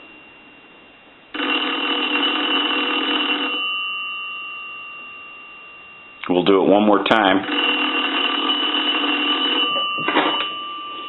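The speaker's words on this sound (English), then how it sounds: "We're going to go ahead and ring the telephone." An electric payphone bell on a chrome three-slot payphone rings in a long continuous burst, pauses, then rings again with a brief voice speaking between the rings.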